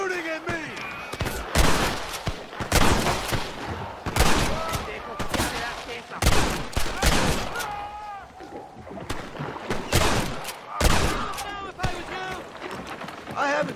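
Rapid gunfire in the Western video game Red Dead Redemption on hardcore mode, a dense run of loud, sharp shots and bursts over about fourteen seconds, with voices talking and shouting between and over the shooting.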